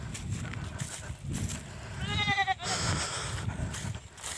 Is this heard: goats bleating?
yes